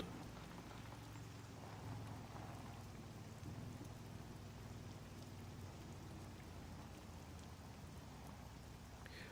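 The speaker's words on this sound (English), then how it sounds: "it actually sounds like rain, and it feels like rain" Steady rain pours in the video game SCUM, a continuous hiss of drops on surfaces with a low rumbling undertone, even and unbroken throughout with no voices.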